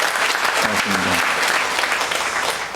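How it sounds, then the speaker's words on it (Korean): A church congregation at a Sunday service breaks into steady, full applause, an even crowd clapping that continues beneath someone speaking briefly over it near the start. "여러분을 위해서 박수로 우리 함께 해주시기 바랍니다"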